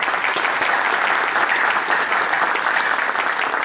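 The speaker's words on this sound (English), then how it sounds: "So let's give them a round of applause." An audience at an Ohio VFW convention claps in a sustained, even round of applause, loud and continuous from start to finish with no speech over it.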